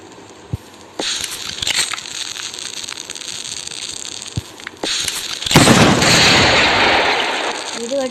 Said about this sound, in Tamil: நெக்ஸ்ட்டு இது வெடிக்கலாம் கைஸ்